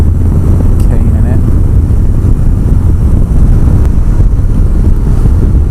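A 2017 BMW F800 GS parallel-twin motorcycle is ridden on greasy roads, its engine a steady low drone blended with heavy wind buffeting on the microphone, and a voice speaks over it throughout.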